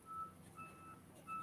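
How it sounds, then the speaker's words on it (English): A truck's reversing alarm sounds outside, faint and distant, a few evenly spaced high beeps over quiet background noise. "You'll have to excuse the beeping noise in the background"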